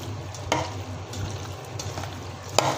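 A spoon stirs and mixes a chicken marinade for shawarma in a bowl, making soft, wet, steady sloshing with a couple of sharper scrapes against the bowl.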